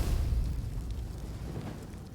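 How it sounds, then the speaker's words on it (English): Wall of Fire spell in the video game Baldur's Gate 3: a deep roaring whoosh of flames with a low rumbling body that swells at the start and then steadily fades while continuing to crackle. "Wall of Fire."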